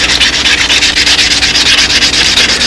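Wet sanding by hand with soapy sandpaper on a reworked wood prop, giving a steady, close rasping scrub with a regular back-and-forth rhythm and no voices.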